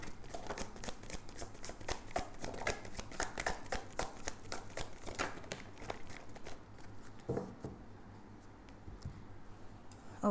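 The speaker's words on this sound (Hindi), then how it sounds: "तो इस डेक से मैंने कार्ड ले लिए हैं।" A tarot deck shuffled by hand: a steady run of quick, close papery card riffles and flicks that thins out toward the end as single cards are drawn, quiet, with no talking.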